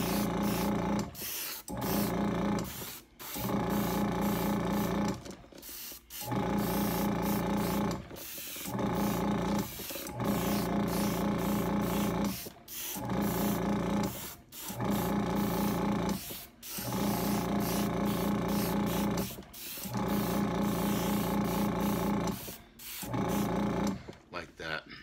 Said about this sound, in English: we're going to put some copper in the airbrush here, and we're going to just do some